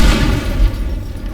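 A loud, deep boom from a bomb going off in the video game Teardown fills the clip, its low rumble sustained and slowly fading, with no talking over it.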